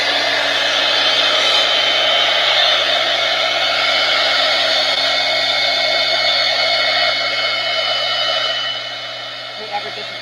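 A hair dryer blows steadily to dry paint on an artist trading card background, a loud continuous whooshing hum close by that eases slightly near the end.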